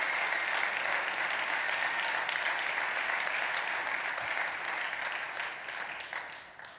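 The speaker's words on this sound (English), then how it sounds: "Please give them a round of applause." Sustained crowd applause at an athletes' charity draft event, thanking the event staff; a dense, even roar of clapping holds for several seconds and then tapers off near the end.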